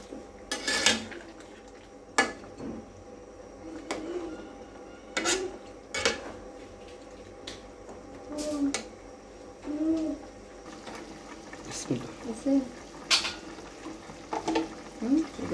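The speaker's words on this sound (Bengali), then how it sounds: "নাড়াচাড়া দিয়ে দেব।" A spoon clatters and scrapes against a metal pot while chicken curry is stirred, in repeated irregular knocks with light sizzling beneath and birds chirping in the background.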